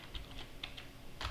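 Quiet computer keyboard typing, a handful of soft key clicks in an uneven rhythm, close and alone.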